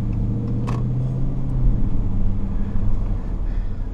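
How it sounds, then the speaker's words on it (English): Deep, steady exhaust burble from a 2016 Dodge Charger R/T Scat Pack 392 V8, a low rumbling idle close by with a slight swell partway through, no voices. "Oh, the burble from this exhaust."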